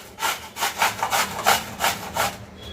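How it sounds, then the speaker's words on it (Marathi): Raw mango being grated for a Marathi-style onion and raw mango summer pickle, giving about eight rhythmic rasping strokes, close and steady, with no talking. "कैरी किसून घ्यायची"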